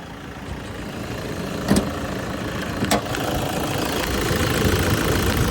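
A Toyota Vigo Champ 2.5E pickup's 2.5-litre 2KD diesel engine idles with a steady, loud, rough clatter heard up close, marked by two brief louder knocks partway through.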